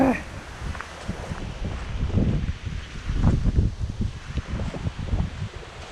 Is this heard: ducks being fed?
no